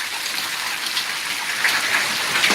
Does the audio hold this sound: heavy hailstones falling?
yes